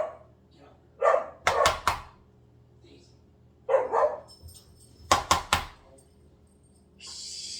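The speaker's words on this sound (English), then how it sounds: "She barks at things." A female puppy barks in several sharp bursts of two or three yaps each, close and loud, with quiet pauses between them and a faint voice in the background.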